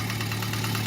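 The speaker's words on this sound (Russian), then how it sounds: "Так, в общем, запустил я двигатель." An Opel car engine idles steadily just after starting, with the alternator belt not yet connected, giving a continuous low mechanical hum with faint knocking texture, close and unbroken, with no voices.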